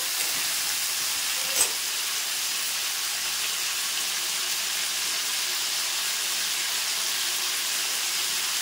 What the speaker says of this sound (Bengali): এবার কিন্তু আমি ফুলকপিটা সুন্দর করে ভেজে নেবো লবণ হলুদ দিয়ে